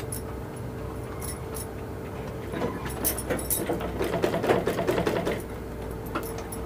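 Sewing machine stitching along the edge of a garment's lining during tailoring, a rapid mechanical whirr of needle strokes that swells in the middle of the stretch and then eases off, heard alone without talk.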